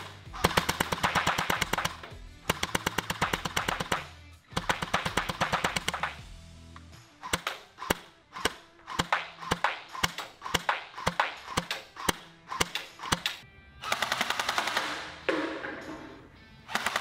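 An AK-74 STS gel blaster fires through a chronograph in bursts and single shots, with rapid loud mechanical rattling runs broken by short pauses and separate sharp pops, heard close with no talking.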